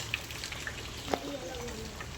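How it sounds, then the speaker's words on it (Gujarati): Rain falling steadily outside a rural home, a soft continuous patter and hiss with a few sharper drops, while a faint voice is heard in the background. "જો વરસાદ જેવું ચાલુ હો"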